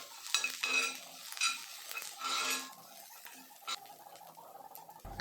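Thinly sliced onions and curry leaves stir-fried in a pan for beans thoran, with a spatula scraping and clattering against the metal in quick bursts over a light sizzle, close and fairly quiet.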